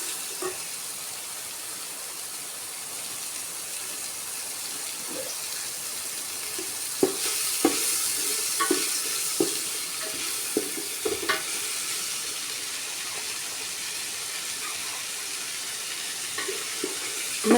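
Onions fry in oil until brown in a pan for a Kerala-style beef and tapioca meal, giving a steady hiss of sizzling with scattered clinks and scrapes of stirring, close by and with no talk.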